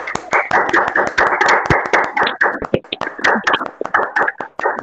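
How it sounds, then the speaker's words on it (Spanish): Close, loud applause from the audience at a talk on travel and musical development, with dense, overlapping hand claps and sharp individual slaps running steadily throughout. "Los invito a abrir los micrófonos para que le demos un fuerte aplauso a Tina."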